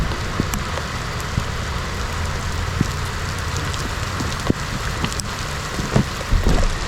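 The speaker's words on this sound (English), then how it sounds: "it's starting to rain like crazy here" Heavy rain pours down steadily outdoors at a fishing spot, a dense continuous hiss of drops on surfaces, with a few scattered knocks and clatters near the end.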